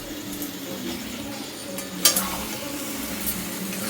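Boiled potatoes with sugar are stirred as they fry in a pan for a coconut aloo dum. A constant close sizzle runs under gentle stirring, with a brief metallic clink of the utensil against the pan.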